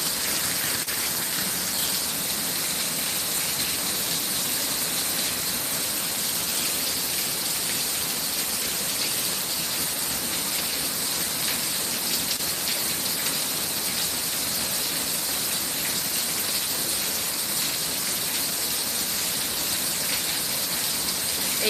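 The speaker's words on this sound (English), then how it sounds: "A lot of rain in a short amount of time is not good for us." Torrential rain pours down during a thunderstorm downburst in the United States, a dense, loud, unbroken roaring hiss with no pauses or voices.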